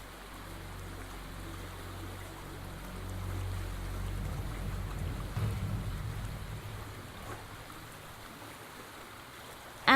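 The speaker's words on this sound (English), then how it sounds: "Acid water washes around the rocks." Acid water washing around rocks in a point-and-click video game, a steady low rushing wash that swells through the middle and ends in a brief louder burst.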